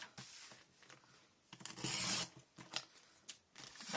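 A paper trimmer slices through 12x12 scrapbook paper, giving a few close, quiet scraping cuts with short rustling swipes and pauses between strokes.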